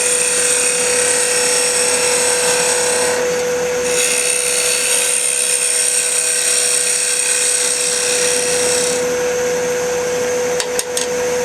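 A 3/8 inch Ellsworth gouge cutting a bottle stopper on a wood lathe gives a steady, loud, high-pitched whine with a constant motor hum beneath, holding evenly throughout with a brief dip near the start.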